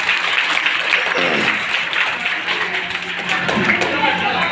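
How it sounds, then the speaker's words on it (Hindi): An audience bursts into applause at a religious anniversary festival honoring a saint, a steady wash of clapping from a large crowd lasting several seconds with a voice talking over it. "ये तालियां किस बात की बजी थी?"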